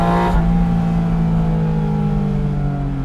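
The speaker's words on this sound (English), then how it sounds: "Let's see if I can put a neutral and rev." A Porsche 718 Spyder RS in neutral revs loudly and close, its tight, tonal engine note falling steadily in pitch as the revs drop away.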